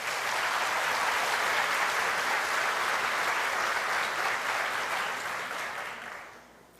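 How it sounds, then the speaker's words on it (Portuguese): A church congregation claps for the Lord after a prayer, producing steady, dense applause that holds for several seconds before fading out at the end. "Aplauda o Senhor"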